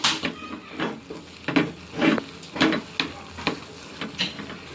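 Spoon stirring a ghee mixture in a frying pan, a series of soft scraping strokes repeating about every half second, close and moderately loud, with a faint sizzle underneath.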